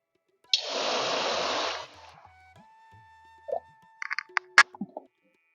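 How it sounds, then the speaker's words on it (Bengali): Water poured from a bowl into a karai on the stove while making salted raw mango preserve: a loud, broad rushing pour lasting over a second, then quiet, followed by a few short clinks and knocks close by. "এই কড়ার মধ্যে জলটা ঢেলে গরম করে নেব"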